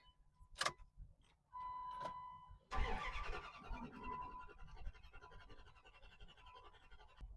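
A car engine cranks after fuel is poured into the throttle body on a cheap used car being revived, a starter whirring steadily for a few seconds, then a rough, noisy catch that churns on unevenly.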